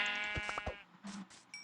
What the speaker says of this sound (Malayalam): ഇതിവിടെ മൊത്തം ആട്ടുകുട്ടികളാണല്ലോ